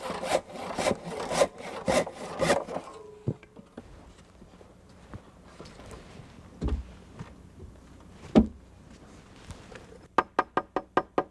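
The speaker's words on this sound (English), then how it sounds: "And finish the cuts with a handsaw." A handsaw finishes notch cuts in deck lumber with quick, rhythmic rasping strokes in bursts at the start and again at the end, separated by quieter knocks and handling of the wood, nearby and without talk.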